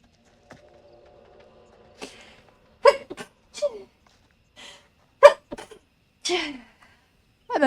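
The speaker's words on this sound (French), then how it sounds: "Ah, elle m'a fait éternuer la petite." A few sharp sneezes and short bursts in a quiet space in the game The Dark Pictures Anthology: Little Hope, mixed with brief vocal sounds between them.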